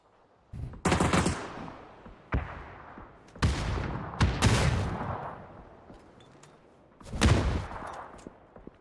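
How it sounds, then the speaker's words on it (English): Grenades explode in a competitive PUBG scrim match as a series of loud, sharp bursts with rumbling tails, spaced irregularly over several seconds and mixed with sharp cracks like gunfire. There is no talk. "Nades are coming back thick and fast."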